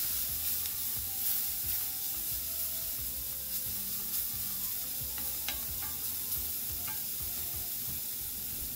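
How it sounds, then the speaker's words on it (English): Cabbage fries and browns in a hot pan with a steady, close sizzle and crackle, broken by a few scraping stirs, with no talking. "don't want to stir it too much because you do want to allow the cabbage to touch the pan, so it actually will get nice and toasty brown"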